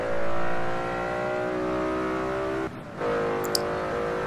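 Car engine in the Forza Horizon 2 racing game holding a steady, high revving drone with layered harmonics, briefly dipping as the car takes a curve before surging back.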